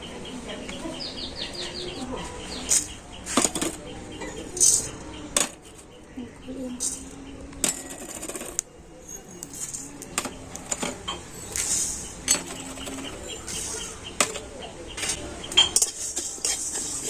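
Whole spices lightly dry-frying in a kadai for a raw mango pickle, with repeated metallic clinks and scrapes of a spoon stirring against the pan, sharp and close at irregular intervals.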